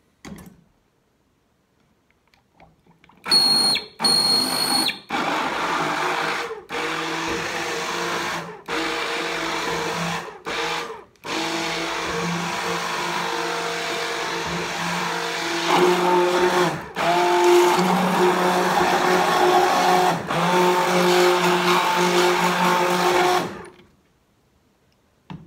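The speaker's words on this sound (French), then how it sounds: "je mixe avec un mixeur plongeant." An immersion blender whirs loudly and steadily as it mixes cream and milk, cutting in and out in short bursts at first and then running longer before it stops.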